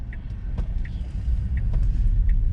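A big rig truck approaches on the road with a steady low rumble that grows louder, heard from inside a 2019 Tesla Model 3, with faint ticking over the drone.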